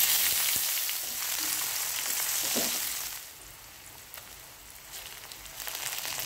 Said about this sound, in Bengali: কড়াইতে দিয়ে দিলাম তেল, কোফতাগুলোকে ভেজে নেব।